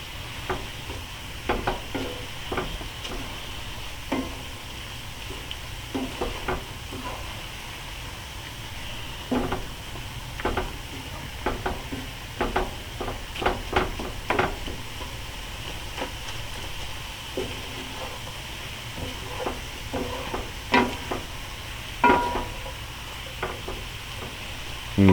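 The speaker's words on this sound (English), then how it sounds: "Just keep stirring and flipping." Chorizo and eggs being stirred and flipped in a frying pan, with a steady low sizzle under repeated scraping clicks of a utensil against the pan at an irregular rhythm, close and moderately quiet.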